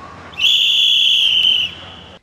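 A single loud, sustained whistle blast at a street protest rally by city council candidates rings out for over a second, sharp and close, then cuts off.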